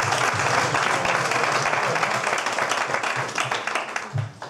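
Sustained applause from an audience at a gathering about the future of the Lauki and Dulciora factories in Valladolid, dense and steady clapping throughout, with some crowd noise mixed in and no clear speech.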